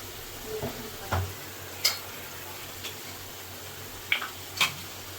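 Vinegar hits chili garlic chicken fried rice in a pan, giving a faint, steady sizzle with a few sharp clinks and scrapes of a spoon on the pan.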